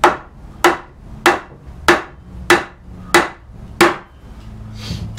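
Square wooden blocks with shrunken, snug mortises are knocked together in seven sharp, evenly spaced knocks, close by and alone.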